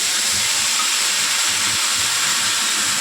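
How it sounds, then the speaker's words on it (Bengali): Tomatoes hit hot oil in a pan that has just been used to fry eggplant, setting off a loud, dense, unbroken sizzle that holds steady from start to finish with no voices. "বেগুনগুলোকে তুলে নিয়ে তেলের মধ্যে দেব টমেটো"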